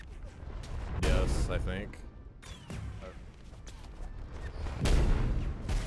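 Gunshots from the video game ROUNDS boom in several loud, heavy bursts with crackling tails, spaced irregularly, while a player talks briefly over the game sounds.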